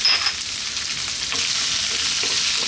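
Onion sizzling in a hot pan for a Filipino sautéed pechay dish: a steady, bright frying hiss with faint crackles, close and continuous, no voices.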